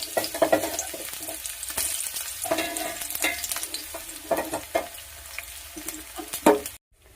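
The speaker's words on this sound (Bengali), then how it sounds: "পেঁয়াজটাকে ভেজে নিচ্ছি আগে।" Chopped onions sizzle in oil in a pan, close and steady, while a spatula scrapes and stirs them at irregular intervals. The sound cuts off abruptly just before the end.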